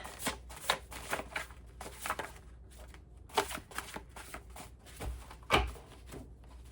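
A homemade deck of cards being shuffled by hand, a run of crisp riffling bursts and soft taps in a quiet room, close and fairly faint.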